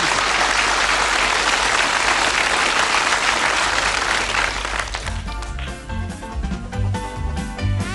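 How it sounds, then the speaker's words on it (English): A studio audience at a 1981 darts game show breaks into loud, sustained applause that fills the room, then thins out as voices and studio music rise over the last few seconds. "a warm round of applause for Jockey Wilson"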